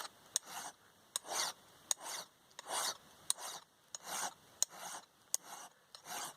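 A knife spine being drawn across the fine side of a sharpening stone, held by hand without a vise. About ten even, rhythmic rasping strokes, each starting with a small click, sound close and alone in a quiet space.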